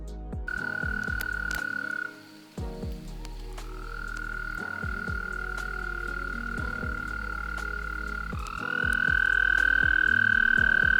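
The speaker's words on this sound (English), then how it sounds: "the spring peepers calling in the background" Spring peeper frogs call in a dense chorus, with long sustained high peeping trills rising and overlapping continuously, joined by scattered nearby clicks and croaks in an outdoor evening setting.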